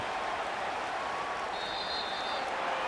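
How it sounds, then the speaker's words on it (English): A home stadium crowd in the Madden 26 football video game applauds as a steady, even wash of clapping and cheering that stays at a constant level throughout, with no voices standing out. "And the home crowd applauding."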